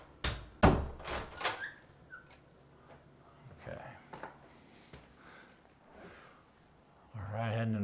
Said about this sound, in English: Check our door swing.